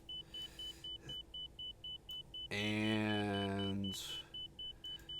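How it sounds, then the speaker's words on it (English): Inner marker beeping in a Toliss A319 cockpit on approach, a rapid series of short, evenly spaced high tones, interrupted briefly by a louder mechanical whirring before the beeps resume; a voice speaks briefly. "that's what's beeping. It's detecting the inner marker."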